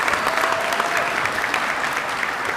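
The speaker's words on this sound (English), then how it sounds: "Please give them a round of applause." Audience applause fills a hall at the Lane commencement ceremony, loud and sustained, a thick wash of many hands clapping together without pause.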